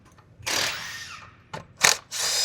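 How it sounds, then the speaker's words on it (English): Power tool backing out 8 mm bolts on a 2019 Dodge 6.7L Cummins engine, several short whirring bursts separated by brief pauses, close and fairly loud. "We're going to take these 4 8 mil bolts out right now."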